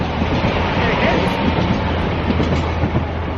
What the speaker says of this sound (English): you've got trains going by as well